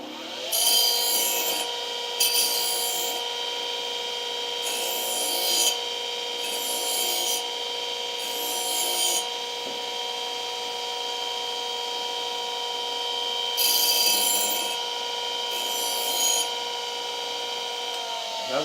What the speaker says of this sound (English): you don't want to sharpen one part of it or put one part of it on a wheel more than the other part